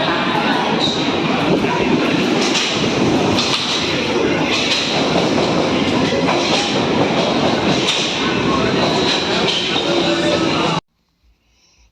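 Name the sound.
train coming out of tunnel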